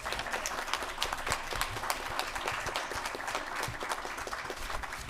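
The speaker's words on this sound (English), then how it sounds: "let's give them one final round of applause" A small group of people at a formal board meeting give a final round of applause, with sparse, uneven individual claps sounding fairly faint and close throughout.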